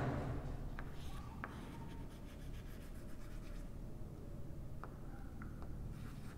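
A pen writes on paper during a maths lesson, giving faint, scratchy rubbing strokes with a few light taps, close and quiet throughout.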